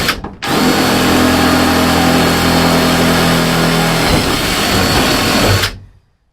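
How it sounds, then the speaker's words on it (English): A power drill runs loud and close for about five seconds, its steady whine joined by a low grinding hum that drops away before it stops. "Well, I finished the drill fairly easy"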